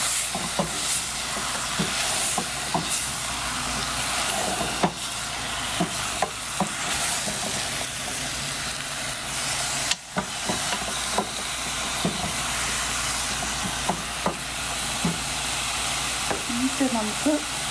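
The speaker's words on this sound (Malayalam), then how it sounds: "ഇതെല്ലാം കൂടെ നല്ലപോലെ ഇളക്കി യോജിപ്പിക്കണം." Kerala beef fry sizzles hard in a pan as it is stirred on medium heat. A continuous hiss of frying is punctuated by regular scraping knocks of the spoon.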